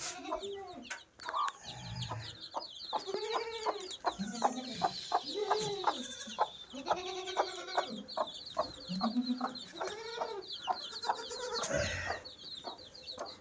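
Several chickens cluck and chatter close by in quick, repeated bursts, with occasional louder squawks over a steady farmyard background, near a family's cave dwelling.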